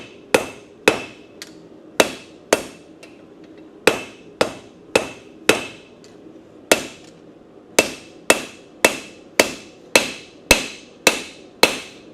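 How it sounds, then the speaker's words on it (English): Hammer blows on hot metal at a blacksmith's anvil while forging a small circle, a steady run of sharp ringing strikes in close succession, loud and near, with no talk. "You gotta forge that little circle in there."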